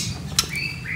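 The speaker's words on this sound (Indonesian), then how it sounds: "Cakep nih burungnya." A male white-rumped shama (murai batu), newly out of its transport box, gives one short sharp squawk up close, followed by thin whistled notes over a steady background hiss.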